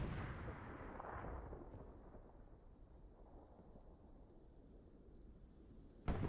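Artillery fire in the World War II shooter Hell Let Loose: heavy, distant booming rumbles rolling out over several seconds, fairly faint, ending in a sharper thud, with no voices.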